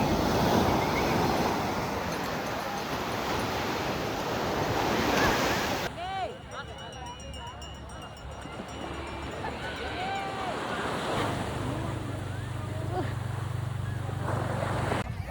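Ocean surf rolls and crashes at Yarada Beach, with a steady roar of breaking waves and gusting wind buffeting the microphone throughout, loud and continuous.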